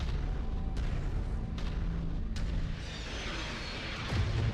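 Distant artillery fire in the MechWarrior 5 video game, a few muffled booms and sharp cracks over a steady low mechanical rumble.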